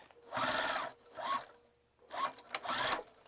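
A sewing machine stitching a fabric tote bag runs in short bursts of rapid mechanical whirring, separated by brief pauses while back stitching at the edge, close and fairly quiet.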